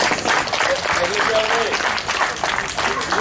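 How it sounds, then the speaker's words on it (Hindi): An audience at a Vedic preaching gathering in Chitpur, Kolkata claps in continuous applause, with a voice speaking over the clapping throughout. "कम से कम ताली बजा करके उत्साह वर्धन कीजिए।"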